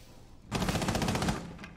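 Automatic gunfire from a tactical shooter video game, a single rapid burst of about a second, fairly faint and set against quiet background noise, with a short trailing shot after it.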